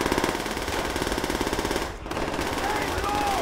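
Rapid machine-gun covering fire in the Call of Duty: World at War video game, a dense rattling burst of shots that runs loud and steady throughout, with a brief dip partway through.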